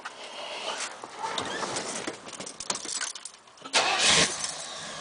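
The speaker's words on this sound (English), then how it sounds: "I'll go ahead and crank the car up" A 1971 Buick Centurion convertible has its engine cranked and started. A patter of starter noise leads into a louder burst as the engine catches near the end, heard close and with no talk.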